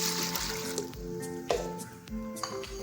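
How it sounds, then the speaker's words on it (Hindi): Water is poured into a pressure cooker while cooking a pigeon and bitter gourd curry, a close, wet trickle and splash with a faint ringing resonance from the metal pot. "ये मैं पानी डाल रही हूँ कुकर के अंदर"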